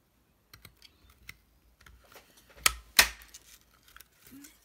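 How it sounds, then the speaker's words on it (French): A paper punch cutting paper shapes for a snowman punch-art craft tag, with soft scattered clicks building to two sharp, close crunching punches near the middle. "et je perfore"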